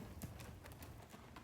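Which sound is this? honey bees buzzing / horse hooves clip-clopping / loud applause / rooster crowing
horse hooves clip-clopping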